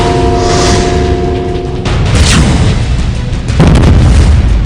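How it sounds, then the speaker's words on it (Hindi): Heavy blasts from an early-morning gunfight with militants in Budgam, Kashmir: a deep booming burst lands near the two-second mark and another follows later, each rolling out over a constant rumbling background with no talk. "पहला धमाका"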